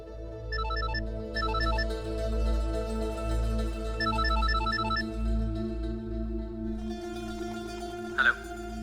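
A phone rings in repeated short electronic bursts, a few trill patterns separated by pauses, playing over a low, steady background drone with a brief knock near the end.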